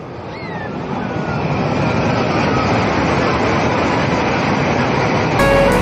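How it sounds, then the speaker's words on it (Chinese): A high-speed rail train rushes past at night in Changhua, making a loud, steady broadband roar that builds within the first second and holds throughout. "大家看看高铁快速通过的画面"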